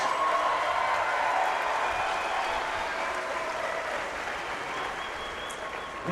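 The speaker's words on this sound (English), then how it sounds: "let's give both fighters a big round of applause" Audience applause for both fighters at the close of a three-round caged combat sports bout, a steady wash of many hands clapping that fades gradually without stopping, with no voices on top.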